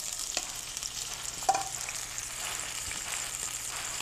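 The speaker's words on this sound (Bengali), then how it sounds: "তেল দিয়ে এখন দিয়ে দেবো আমি পেঁয়াজ কুচি আর কাঁচামরিচ কুচি" Chopped onion and green chili fry in plenty of oil, making a soft, constant sizzle with a few faint clinks of stirring, fairly quiet and with no talk.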